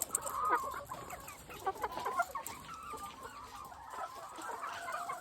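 Several chickens cluck and chatter nearby in a busy, overlapping flock, with no talking.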